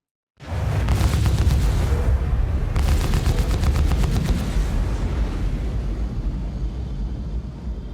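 Gimbaled ship weapons fire in the space game Star Citizen, with two long bursts of rapid, loud automatic fire over a deep rumbling engine roar that carries on after the shots stop.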